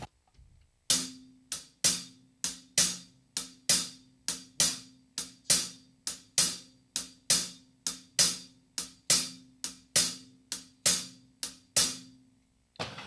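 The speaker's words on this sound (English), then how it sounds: "just the hi-hat pattern, that's what you'll want to learn first." Steady hi-hat drum pattern struck with the shoulder and tip of a stick, crisp evenly spaced hits with accented beats and lighter ones between, close and alone.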